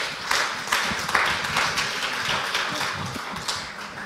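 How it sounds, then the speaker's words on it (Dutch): Audience applause for the guests after a film screening and discussion: dense, steady clapping from a seated crowd, with a few louder bursts, running evenly for the whole stretch. "Een hartelijk applaus voor Willem-Jan Otte en Joost Baars."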